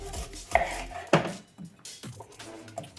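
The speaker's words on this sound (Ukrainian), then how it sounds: "це наша цибулька. Почнемо її чистити і нарізати." An onion being peeled and chopped on a board, heard as a few sharp, close knife knocks spaced irregularly over a quiet kitchen background.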